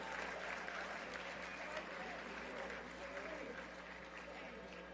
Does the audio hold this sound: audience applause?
yes